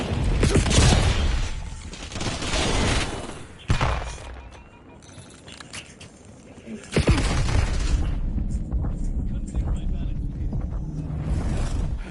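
A hostile grenade detonates in the video game Warzone with a loud booming blast, followed by rumbling game combat noise and further heavy impacts, while voices call out over the action.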